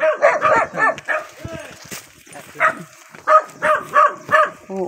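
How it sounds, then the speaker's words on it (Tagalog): Several dogs bark and yip in quick overlapping bursts at a house with many dogs, fairly close, with some whimpering between barks. "Dami namang aso."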